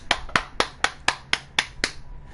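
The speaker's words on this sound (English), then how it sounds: "Round of applause for Mangle," A round of applause heard as about eight sharp, evenly spaced claps, close and loud, with no voices over them.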